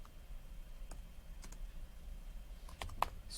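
Scattered clicks of a computer keyboard as an answer is typed in, a few light irregular keystrokes bunched near the end, quiet and close over a faint room hum.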